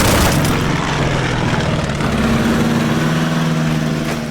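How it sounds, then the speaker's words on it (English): Propeller aircraft engines from the WW2 strategy game Order of Battle, set in the Pacific, drone steadily with a low humming pitch, a loud continuous buzz that holds throughout without voices. "Alright, so he does have some planes."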